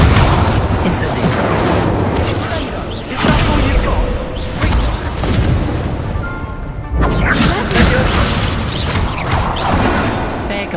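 The Incendio fire spell is cast again and again in Hogwarts Legacy, bursting out in loud whooshing blasts and crashing impacts over dense, continuous battle sound.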